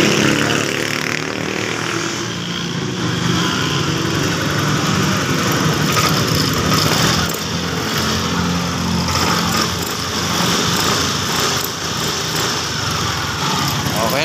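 Yamaha Aerox 155 scooter engine running at idle after a push-button start, a steady close buzzing hum that holds through the whole stretch with people talking over it.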